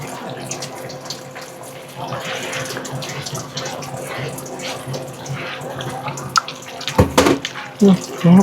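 Water pours from a tap into a pot of mung bean stew, a steady rushing flow with clinks and bumps of the pot near the end and faint talk in the background.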